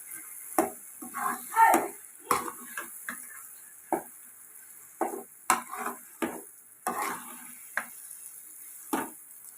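Gongura chutney frying in a pan while being stirred until reddish, heard as irregular close scrapes and clinks of a spoon against the pan over a light sizzle, with no talking.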